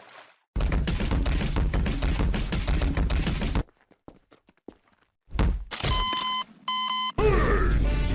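An incoming-call ringtone in a cartoon animation chirps in short electronic bursts, set between heavy thumps, crashing noise and brief silences.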